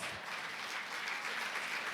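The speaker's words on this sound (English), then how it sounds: "let's give him a round of applause" Audience applause at a police alliance quarterly meeting, a steady dense patter of many hands clapping throughout at moderate level, no voices over it.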